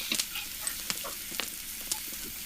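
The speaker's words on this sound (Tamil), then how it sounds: "நல்லா எல்லாத்தையும் எண்ணெயில வதக்கி விடுவோம்." Garlic, dried chillies and curry leaves sautéing in hot oil for a Tamil buttermilk curry give off a quiet, steady sizzle dotted with sparse sharp crackles and pops, with no voices.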